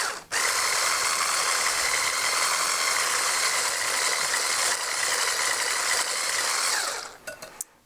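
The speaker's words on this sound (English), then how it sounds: "you're going to just beat this until it's a nice and creamy mixture" An electric mixer beats butter and sugar into a creamy cookie dough, a steady whirring motor drone held for about seven seconds before it stops with a few clatters, close up and alone.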